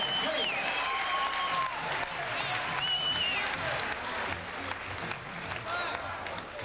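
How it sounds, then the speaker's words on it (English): A boxing arena crowd claps and cheers loudly for a fighter, the applause steady and dense, with faint whistles on top and a ringside announcer's voice coming through. "how about a nice round of applause for Kevin Rooney?"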